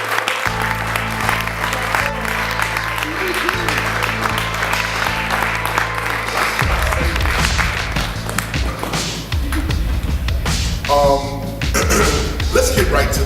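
An audience at a hip hop lecture event breaks into loud, sustained applause for the speaker, with cheers and a low musical hum beneath, and voices cutting through near the end.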